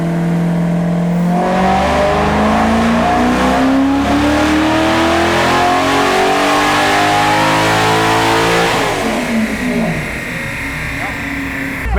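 Industrial LS 6.0 V8 from a generator, fitted in a car on a chassis dyno, revving in one long, loud pull that rises steadily to a peak and then drops off abruptly as the throttle closes.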